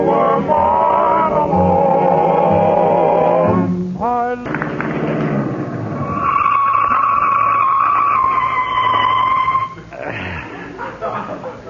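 A car in an old-time radio comedy episode, with its brakes squealing loudly as it comes to a stop, joined by a rising whine, among music and talk.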